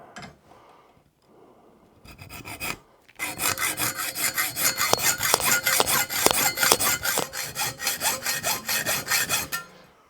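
A hacksaw cuts stainless steel welding coupon stock in a machine workshop, with a few tentative strokes and then a run of steady, rhythmic rasping back-and-forth strokes, close and loud.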